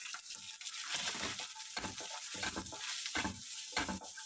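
Chopped onions sizzling and frying in ginger garlic paste for a whole masoor dal dish: a steady crackling hiss with periodic stirring scrapes, close and continuous, with no talking.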